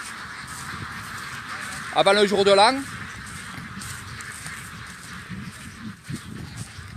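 Ducks at a Thai duck farm in Isan give a short burst of loud, nasal quacking partway through, over outdoor background noise, with someone talking nearby before and after.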